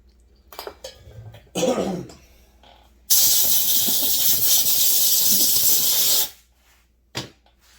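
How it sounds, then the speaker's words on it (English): Compressed-air hose blasting crankshaft parts dry for a Husqvarna 390XP chainsaw, a loud hiss lasting about three seconds between quieter workshop knocks and shuffling. "We're just gonna rinse it off, blow it dry with an air hose."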